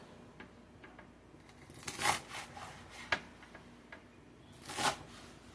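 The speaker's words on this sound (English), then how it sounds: "Now it's time to cut up the cilantro." A knife chops fresh cilantro on a cutting board in a home kitchen making salsa, giving a few soft scattered knocks and a couple of brief louder rustling cuts, close and fairly quiet.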